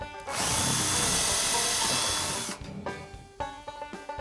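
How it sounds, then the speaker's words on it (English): A power drill whines loudly for about two seconds, then slows and stops, followed by a few short lighter bursts of the motor. "we'll drill a hole"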